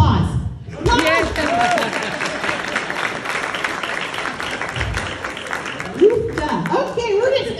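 Audience applause at an annual awards meeting, a sustained round of clapping in a hall, with speech and voices prominent over it near the start and end.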